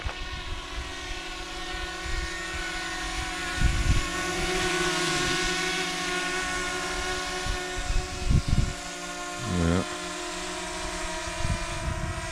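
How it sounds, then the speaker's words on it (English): A camera drone flies above a remote stream in Scotland. Its motors give a steady whining hum that holds throughout, with a few short louder bumps and wind buffets along the way. "We're flying the drone over the top of the stream down there"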